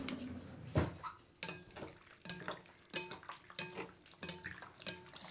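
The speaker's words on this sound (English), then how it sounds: "Now we are going to stir all this together." A spoon stirs potato salad in a bowl, giving soft irregular scraping and clinking against the dish with a few wet squelches, close and moderately quiet, no voices.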